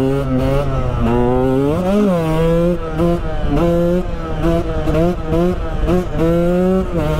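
A KTM 125 EXC two-stroke dirt bike engine revs hard and loud, pitch rising and falling through repeated throttle blips with a crackling, buzzy note, close up with no talk.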